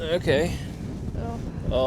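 Strong wind buffets the microphone with low rumbling gusts while a person speaks briefly over it, at an ice fishing access point on the Red River in Manitoba.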